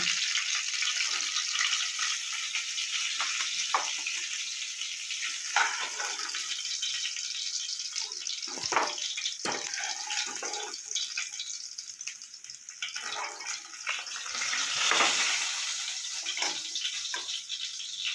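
Bhola fish frying in oil produces a bright, steady hiss and sputter, with irregular pops and spatula scrapes rising out of the sizzle.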